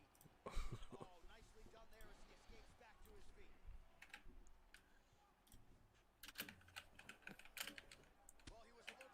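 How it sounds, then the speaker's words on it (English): Rapid typewriter-like key clatter runs through a live MMA fight card broadcast, with commentators talking over it throughout and bursts of crowd and ringside noise. "You might hear the typewriter."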